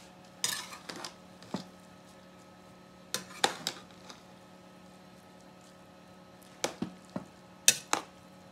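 A spoon scrapes and clinks against a metal pot while stirring mutton biriyani rice, scattered clusters of sharp close knocks and scrapes separated by quiet pauses, without talk.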